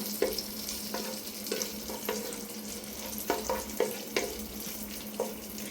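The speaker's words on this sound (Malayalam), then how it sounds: "നമ്മളൊരു വുഡൻ സ്പാറ്റ്യൂല ആണ് ഉപയോഗിക്കുന്നത്" A wooden spatula scrapes and taps around a pan of pineapple payasam in irregular strokes over a soft, steady sizzle of frying.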